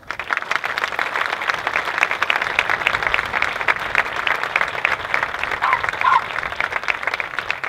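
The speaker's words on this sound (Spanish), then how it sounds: "un reconocimiento también y un aplauso a esa lucha de estas mujeres" An audience at a campaign rally on hospitality work and job insecurity breaks into steady applause, many hands clapping at moderate loudness with a faint voice or whistle briefly rising through it.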